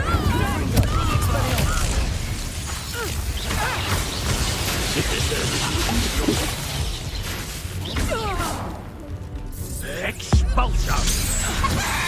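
Hogwarts Legacy spells such as Bombarda and Confringo go off in a dense run of booms, blasts and crackling magical bursts, loud and continuous, with voices mixed in among the effects.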